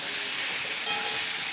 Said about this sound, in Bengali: এটা দিয়ে একটু এবার কষিয়ে নেব মশলাটা।